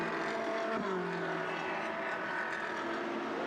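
Ferrari Challenge race cars on a formation lap at Brno rumble in a steady, droning engine wash that holds throughout, with one shifting pitch sweeping down briefly.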